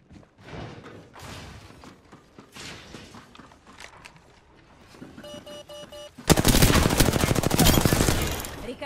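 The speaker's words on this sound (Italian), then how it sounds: "Sto sparando." Gunfire in the video game Apex Legends: scattered shots and mechanical clicks lead into a loud, rapid burst of automatic fire at the end, with no talking.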